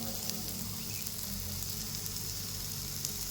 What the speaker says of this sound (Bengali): আমি মশলাটাকে ভালো করে কষিয়ে নেবো